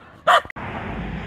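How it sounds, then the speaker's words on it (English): A hunting dog barks once, loud and close, at a trapped raccoon outdoors, followed by a brief click and then a steady wash of distant highway traffic. "You can hear Timber telling on one here"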